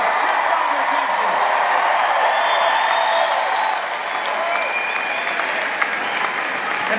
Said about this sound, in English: I could say anything and have you cheer really loud